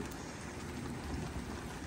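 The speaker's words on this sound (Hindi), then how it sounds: "तेज़ बारिश जो है ना स्टार्ट हो चुकी है" Heavy rain falls steadily and evenly, a dense close hiss of drops with no voices, at a quiet overall level.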